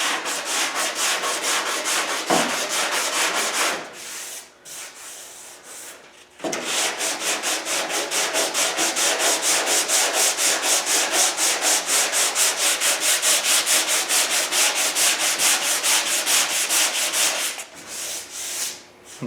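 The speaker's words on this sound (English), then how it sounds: "Helps put a little more material of the sandpaper into contact with the body filler." Hand sanding of body filler on a 1968 Ford Mustang with sandpaper on a block: steady rhythmic rasping strokes, loud and close, broken by two short pauses, with no talk.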